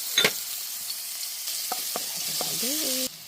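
Garlic sautéing in cooking oil, a crackling sizzle that opens with a sharp burst as it hits the pan, then settles into a steady fry with a few utensil taps near the end.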